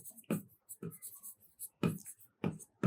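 Chalk or marker strokes on a board as a maths formula is written, short scratchy bursts in an irregular rhythm with quiet gaps between them.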